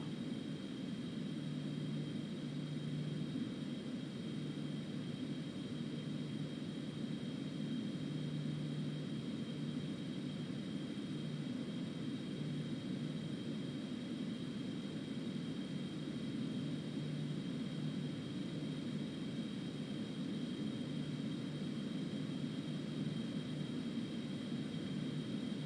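Boeing 777-300ER taking off in the Aerofly flight simulator game on a Swiss flight: a steady, constant jet engine roar with a faint high whine, unbroken and without talk throughout.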